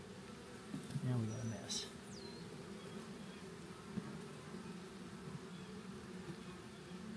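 Honey bees buzz in an opened hive taken from a tree, a steady low hum close to the microphone throughout while a person talks briefly over it.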